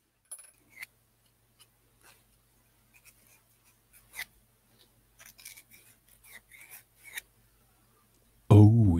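Sandpaper scuffing brass pen tubes in a woodturning shop, heard as faint, scattered scratchy strokes at uneven intervals, ending in a sudden loud low rumble.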